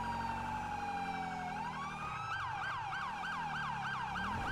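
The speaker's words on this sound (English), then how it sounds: "this ambulance is relentless" An ambulance siren in the video game GTA V blares loud and close, a sustained wail that shifts into a rapid, repeating yelp, running continuously throughout.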